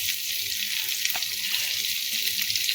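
Chopped garlic and green chilli fry in butter in a pan for a veg pasta soup, giving a continuous close hiss of sizzling with light stirring, no voices.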